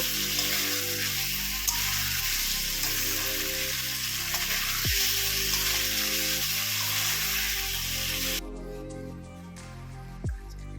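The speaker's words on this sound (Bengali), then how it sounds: "এবারকে মাছগুলোকে দিয়ে একসাথে কষিয়ে নেব।" Singhi fish sautéing in a pan for a kaliya gives a constant, loud frying sizzle over background music. The hiss drops away sharply near the end.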